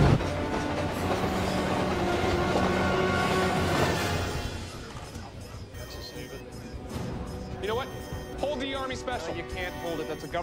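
A train rumbles past with steady clattering wheels, then fades as voices and other sounds take over in the second half.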